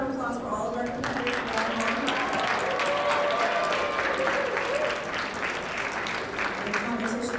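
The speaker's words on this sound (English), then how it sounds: "Let's have a round of applause for all of our competitors." Audience applause for competitors at a poetry recitation competition, a continuous patter of clapping with voices talking over it throughout.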